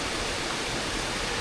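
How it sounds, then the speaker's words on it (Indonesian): Steady broadband rush of a waterfall's lower tier at a hidden waterfall in East Sumba, a continuous, even roar of falling water with no voices. "Sini masih di air terjun bawahnya."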